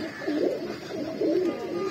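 Pigeons coo in soft, repeated rolling phrases, close by, with a steady low background hum and no talking.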